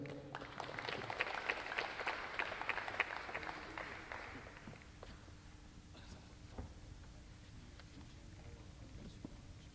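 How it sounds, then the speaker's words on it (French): A small press conference crowd for a boxing event applauds a champion, with fairly faint clapping for the first few seconds before it fades to a few scattered claps over quiet room noise. "Un grand champion, je voudrais qu'on l'applaudisse"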